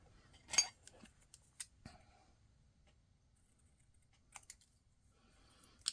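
Scissors trimming paper for a handmade card, a few close, crisp snips spaced out with quiet gaps between and a short cluster of cuts near the end.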